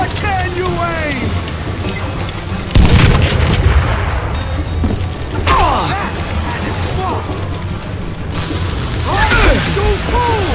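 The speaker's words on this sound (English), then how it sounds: "Who said you could throw dynamite?" Dynamite going off in the Western shooter Call of Juarez Gunslinger, a heavy booming blast standing out from a busy mix of gunfire and rattling effects, with speech around it.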